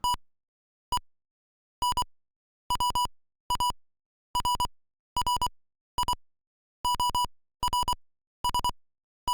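Character speech in an NES game rendered as Morse-code-like electronic beeps, arriving in short clustered bursts of rapid tones separated by brief silences, clean and fairly loud with no voices.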